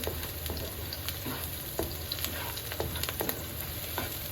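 Food frying and being stirred in a pan on the stove, with a constant loud sizzle and scattered scraping clicks from the stirring, no talking.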